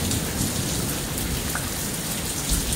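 Heavy rain pours down hard during a lightning storm in Lufkin, Texas, heard from under a carport. The broadband hiss is dense and continuous, close and loud, with no talking.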